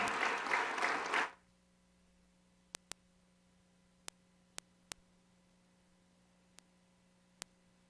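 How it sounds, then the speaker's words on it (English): Audience applause at a city council meeting, a loud burst of clapping that stops abruptly after about a second, leaving near silence broken by a few faint isolated clicks. "Let's give these guys a big round of applause."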